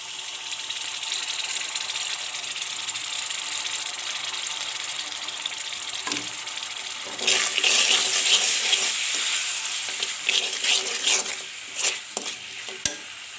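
Spices with salt, ginger and garlic paste sizzle steadily in a pan for a chicken curry, with a louder burst of frying and stirring scrapes partway through, close and without talk.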